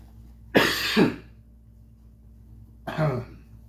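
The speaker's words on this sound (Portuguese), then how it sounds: "vocês vão me perdoando, né, pela minha tosse" Two harsh coughs separated by a quiet pause of about two seconds, close up, each with a rough throaty double push.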